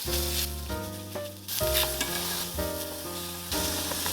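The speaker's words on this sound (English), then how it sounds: "Add a little more oil and now stir fry the pork." Pork stir-frying in oil in a pot, loud continuous sizzling with stirring and scraping, and soft tonal background music underneath.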